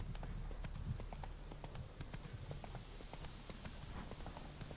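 Horse hooves galloping in The Witcher 3, a continuous rapid clip-clop rhythm heard alone and fairly faint under an even ambient bed.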